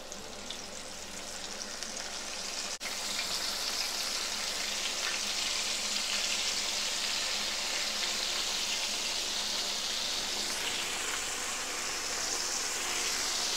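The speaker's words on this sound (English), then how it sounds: "It's ready, so we're gonna go ahead and fry." Cubed steak for country fried steak drops into hot oil; a quiet hum gives way to a sudden, steady, close frying hiss that keeps going evenly for about ten seconds.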